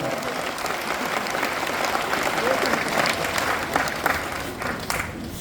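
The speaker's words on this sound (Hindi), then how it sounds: "आयोजक भाई बहनी मल्ला जोरदार धन्यवाद दो और जोरदार ताली से अभिनंदन।" A large crowd applauding at a political rally, sustained and loud clapping that holds steady before thinning slightly at the end.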